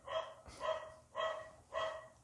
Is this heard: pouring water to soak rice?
no